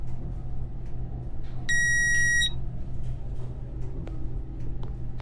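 A loud electronic beep tone in the video game Blink: The Last Night sounds for under a second over a low steady hum and faint clicks, with no voices.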